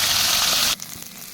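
Taro pieces hissing in hot oil tempered with cumin and nigella seeds, a loud bright sizzle that cuts off abruptly after under a second, leaving faint crackles.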